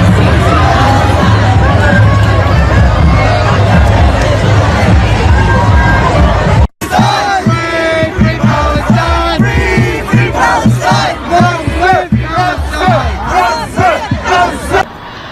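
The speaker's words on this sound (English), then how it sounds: "Thousands of pro-Palestinian protesters raged in Washington, D.C. before descending on the White House" A huge crowd of pro-Palestinian protesters in Washington, D.C. chants and shouts in unison, loud and dense, with rhythmic massed voices continuing after a brief cut.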